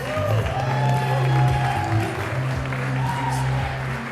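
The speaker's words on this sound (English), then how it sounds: "Big round of applause." Wedding reception guests applaud and cheer in a hall, a sustained burst of clapping with whoops, and a voice speaks over the crowd.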